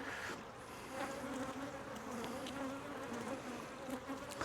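Honey bees buzz steadily throughout a full hive box, a dense continuous hum with a few higher droning tones layered close and loud.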